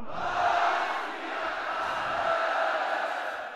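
A large crowd at a kabaddi event roars the Sikh jaikara response in unison, a loud, sustained collective shout that swells and holds.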